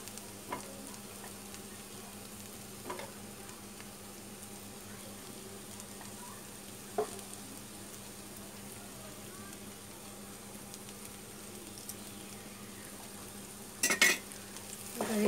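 Tawa pulao rice with potato pieces is stirred on a hot tawa: a soft, constant sizzle with a few sharp spoon scrapes and clinks, the loudest burst near the end.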